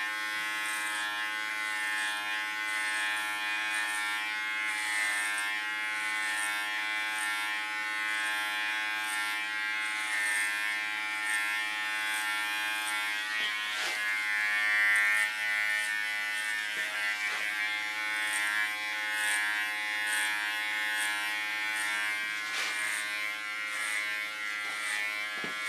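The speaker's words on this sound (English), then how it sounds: "I start without my clipper comb. Just putting the clipper blade to the back." Electric hair clipper cutting hair at the back of the head during an ultra-short feminine clipper cut, a steady close buzzing drone running throughout with slight shifts as the blade moves through the hair.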